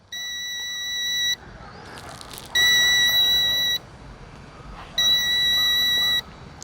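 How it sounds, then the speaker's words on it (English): A Ruko U11 Pro drone's remote controller gives three long, steady electronic beeps, evenly spaced, each lasting over a second, with faint outdoor background noise in between. "You can hear the remote control is beeping away."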